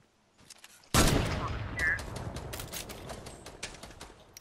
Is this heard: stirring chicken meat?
no